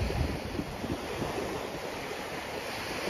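Steady broadband surf on Puek Tian Beach in Petchaburi, Thailand, a continuous wash of waves with some wind rumble on the microphone and no clear individual breakers.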